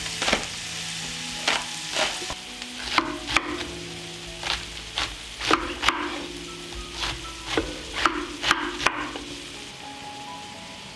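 Onion, garlic and chopped vegetables sizzling in a pan, a constant frying hiss broken by repeated scraping stir strokes and knocks of the spoon against the pan at a fairly steady pace.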